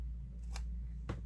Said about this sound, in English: We are snipping. We are snipping right here.